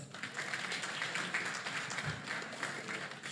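Audience applause opens a student meetup with animation professionals, a faint, steady wash of distant clapping that goes on without a break.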